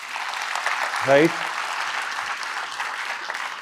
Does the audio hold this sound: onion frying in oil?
no